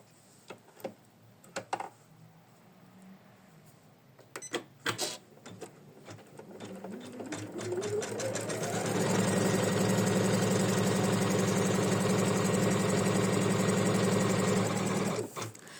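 A machine embroidery unit making a shabby chic triangle starts with scattered clicks, then winds up into fast, steady stitching, a loud mechanical rattling hum that runs for several seconds before stopping.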